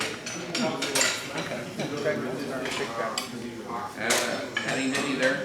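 Small metal hammers clink and clatter together as a hand rummages through them, with repeated close metallic knocks and scrapes and a voice talking over it.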